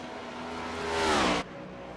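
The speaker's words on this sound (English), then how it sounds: "Here comes the leaders going around the modifieds." Race cars roar past at the Glen road course as the leaders lap slower modified cars, engine pitch climbing to a loud close peak and then cutting off sharply as they pass.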